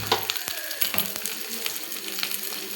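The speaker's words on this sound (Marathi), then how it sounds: "कांदा चांगला भाजून घ्यायचा गोल्डन ब्राऊन होईपर्यंत." Chopped onion fries in a pan until golden brown, a close, steady sizzle with a few sharp scraping taps from stirring, for a Kolhapuri kharda paneer dish.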